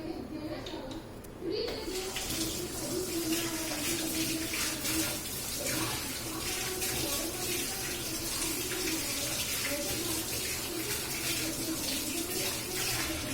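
Tap water runs steadily and fairly close as hands are washed while cooking at home, a continuous splashing stream after a brief quieter start.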